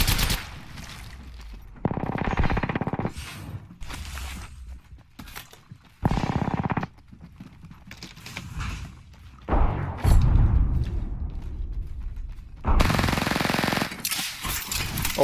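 Video game gunfire in several loud bursts: rapid automatic volleys and heavier thumping shots, separated by quieter gaps, with no talk over them.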